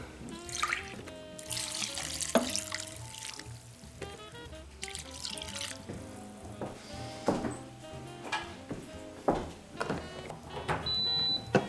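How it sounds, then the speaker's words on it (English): Chicken broth pours and splashes steadily into a slow cooker, close by, with gurgling and dribbling shifts in the flow throughout. "The last thing we need is 3 cups of chicken broth. We're just gonna pour that right on top."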